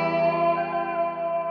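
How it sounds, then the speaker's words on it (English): A guitar VST run through a 70s wah preset in Guitar Rig 6 holds a smooth bending note, sustained and warmly filtered with chorus-like shimmer and echo, heard alone in a piano-based beat. "Just take a listen to how smooth the bending note sounds on the first part."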